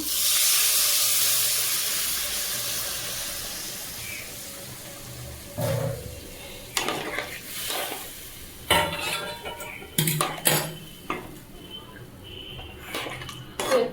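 Hot water poured into a pan for a tilapia curry with brinjal and potato, a brief rushing hiss at first, then soft simmering bubbles and repeated clinks and scrapes of a spoon against the pot, close and with no talking.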